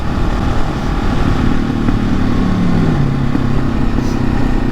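A carbureted supermoto motorcycle engine runs steadily at close range, a dense continuous drone with a slight pitch sag midway and no talking.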